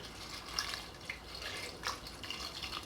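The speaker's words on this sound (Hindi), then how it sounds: "तो ये तकरीबन आधा जग मैंने पानी का बीच में डाल दिया है" Water is poured from a jug into a pot of mutton with bay leaves and garam masala, a soft, steady splashing with a few brighter splashes.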